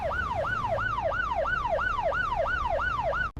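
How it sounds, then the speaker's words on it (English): A loud wailing emergency siren from police cars and ambulances at a road accident sweeps up and down in a steady repeating cycle, close by, cutting off abruptly at the end. "Police cars, ambulances everywhere."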